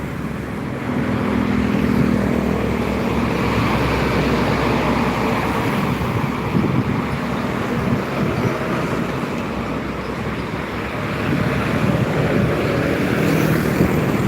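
A red Simba Surya truck passes along a highway, a sustained low engine rumble and road roar that stays loud and even for a long stretch over background traffic, with no voices.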